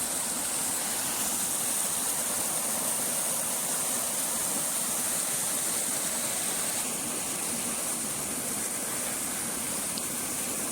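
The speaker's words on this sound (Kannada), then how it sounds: "ಧಾರಾಕಾರವಾಗಿ ಹರಿತಾ ಇದೆ ನೀರು" Continuous rushing of rainwater gushing down a hillside cascade formed by heavy rain, full and even for the whole stretch, with a faint low rumble beneath.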